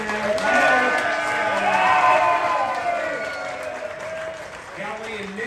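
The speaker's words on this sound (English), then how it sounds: "And a rough round of applause." A crowd claps and cheers at a live outdoor radio broadcast event for a Friday football show in Plymouth, Minnesota, sustained and fairly loud with a presenter's voice over it.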